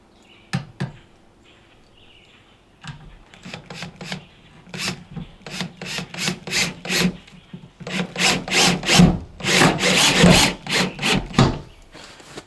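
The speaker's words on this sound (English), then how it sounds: "All right, let's get all the screws on here." Screws being driven into the wood of a solar shed: a run of short, rasping bursts from a driver, faint and sparse at first, then coming in a steady rhythm and growing louder and denser.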